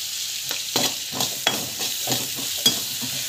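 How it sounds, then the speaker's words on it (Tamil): Chana dal with asafoetida and salt sautéed in a pan, a steady sizzle broken by irregular scraping strokes of a spoon through the dal, close and moderately loud with no talking. "சால்ட் வந்து ஆட் பண்ணி ஸோ நல்லா வந்து வதக்கிட்டுக்கோங்க"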